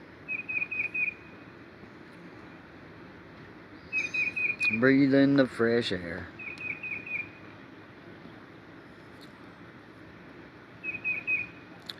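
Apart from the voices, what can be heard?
birds chirping outdoors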